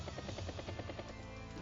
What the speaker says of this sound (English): Helicopter heading up north